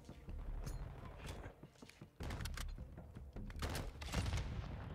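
Suppressed Kastov 74U rifle fire in Modern Warfare 2, muffled bursts of rapid shots with brief pauses in between, over in-game ambience and footsteps.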